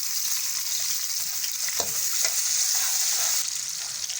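Onion sizzles and fries in about four tablespoons of oil in a kadai, a steady close crackle with a couple of stirring scrapes, no voices.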